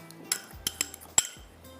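A spoon clinks sharply against a metal pot a few separate times while mutton is mixed with salt, crushed chilli, turmeric, black pepper and yogurt. The knocks are close and spaced out, with soft scraping between them.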